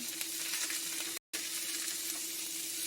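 Steady sizzle of a cabbage stir-fry with shiitake mushrooms in a hot pan as protein goes in, broken by one brief moment of silence, close and continuous with no talk.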